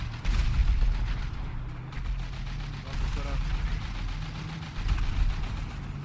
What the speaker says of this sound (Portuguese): Eu tô ouvindo tiro contra a nossa.